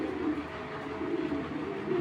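Female Belgian racer pigeon cooing, a low steady murmuring coo, faint and continuous under a soft background hum, no talking.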